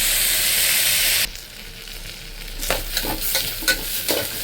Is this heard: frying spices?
yes